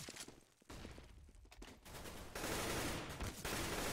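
Gunshots during a competitive first-person shooter match: continuous crackling bursts of automatic fire, rising louder in the second half, dense and unbroken with no voices.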